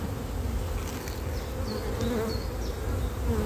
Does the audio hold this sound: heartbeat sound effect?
no